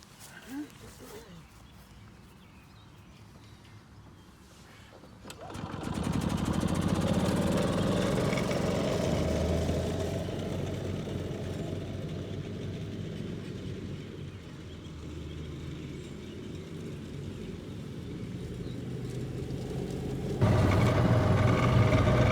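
An old golf cart engine, revived after sitting, starts around six seconds and runs as a steady, loud, rough drone. It rises again near the end. Quieter noise comes before it starts.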